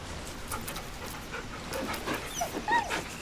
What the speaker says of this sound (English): Pet the puppy dog.